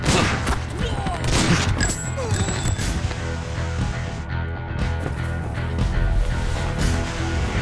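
Dense volley of rapid gunfire in an action film scene from the 2024 Ajith movie Sahoshi Commando, with overlapping loud shots and crashes over a steady low rumble, lasting throughout without a break.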